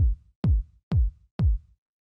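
A minimal house kick drum plays dry through the drum bus with no EQ. Four identical deep, booming hits land in an even pulse about half a second apart, each with a short decaying tail and no other sound.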